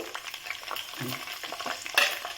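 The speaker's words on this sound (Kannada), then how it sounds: "ಎಣ್ಣೆ ಕಾದ್ಮೇಲೆ ಹಸಿಮೆಣಸಿನ್ಕಾಯಿ ಹಾಕೋಬೇಕು ಈಗ ಪುದೀನ ಹಾಕೋಬೇಕು" Mint and green chillies sizzle and crackle in hot oil while being stirred, a steady close frying hiss with a sharp burst of spitting near the end.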